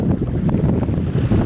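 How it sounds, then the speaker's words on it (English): Gentle water lapping at the shore of Pangong Lake, heard as a steady, soft low wash with faint splashes, mixed with wind rumble buffeting the microphone throughout. "हल्का हल्का पानी की आवाज़"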